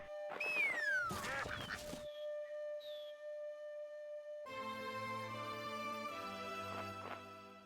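Quacks and honking calls from a duck in the video game Shenmue II, a few short squawks at first, then a stretch of quieter sounds and a louder tonal, musical passage.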